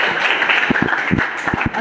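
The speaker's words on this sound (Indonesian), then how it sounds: "silahkan aplaus buat Rahayu" A class of students claps for a classmate, giving a scattered round of sharp, uneven claps over a steady background hiss in the room.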